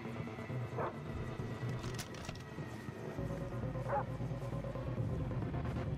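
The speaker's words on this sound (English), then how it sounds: "Ah, goddamn dogs." Dogs bark and yip in the Far Cry 3 video game, a few short calls set against steady game ambience and background noise.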